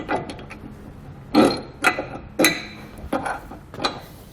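Metal half-inch bolts from a hidden hitch receiver kit clink and clatter as they are pushed through aligned holes on a 2021 BMW X5, with several sharp metallic knocks spaced about half a second apart, close and fairly loud.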